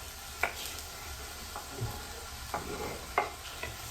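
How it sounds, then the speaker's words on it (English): Carrots and mixed vegetables stirred in a pan, giving a few soft, scattered scrapes and knocks over a faint low sizzle, quiet and close. "We'll go in, give them a stir."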